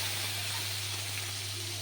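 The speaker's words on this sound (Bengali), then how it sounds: "এর মধ্যে আলুটা ছেড়ে দেবো।" Potatoes go into a hot pan over a spice tempering and sizzle with a loud, steady hiss of frying that holds evenly throughout, with no talk over it.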